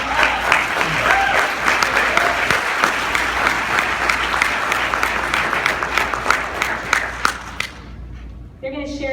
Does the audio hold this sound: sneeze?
no